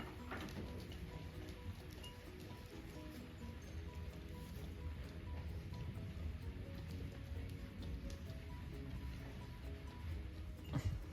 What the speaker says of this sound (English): you guys can hear that beating down on the roof. It's like this fat, chunky, sleety.